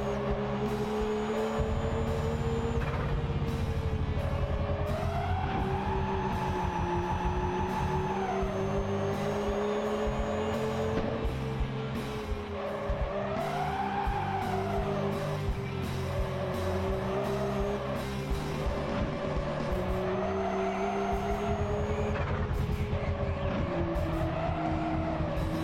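A car drifts in a racing video game, its engine droning steadily with rising and falling revs and recurring tire squeal, mixed under loud rock music throughout.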